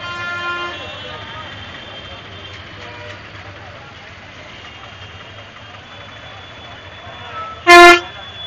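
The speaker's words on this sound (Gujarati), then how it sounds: "તમે ટ્રાફિક જોઈ શકો છો." Road traffic in Junagadh near the Bhavnath foothills during the Lili Parikrama pilgrimage hums with engines idling, then one sharp, loud car horn toot blares close by near the end; a voice talks faintly in the background.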